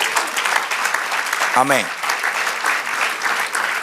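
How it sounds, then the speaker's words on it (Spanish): Church congregation applause swells into a steady, dense clapping that fills the space throughout, with a single voice briefly speaking over it partway through. "Un aplauso al Señor."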